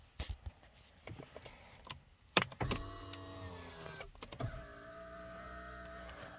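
A Nissan G35 power window motor whirs steadily as the glass travels, with a slight pitch shift partway, preceded by several clicks and taps of the switch and door, close and quiet.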